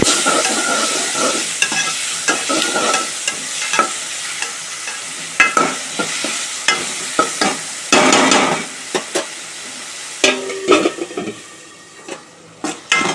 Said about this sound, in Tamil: உப்பு கொஞ்சம் சேர்த்து தக்காளியை நல்லா வதக்குவோம் தக்காளி நல்லா வதங்கணும்